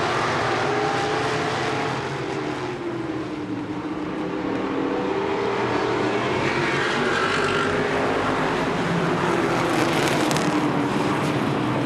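Short-track race cars roar continuously around an oval in a 2018 race, a dense loud engine drone with rising and falling passes and no talk over it.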